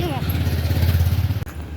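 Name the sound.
motorbike passing on road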